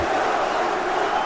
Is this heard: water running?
no